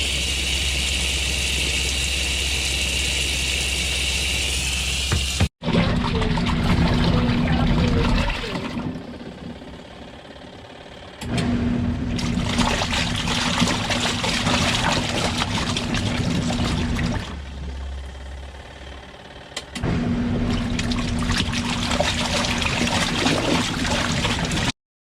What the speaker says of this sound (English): Okay, this is our rinse cycle.